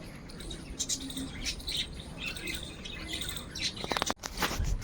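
Pigeons and their chicks in a loft give off a steady mix of soft cooing, squawks and chirps at close range, rising and falling without a break over a low background hum.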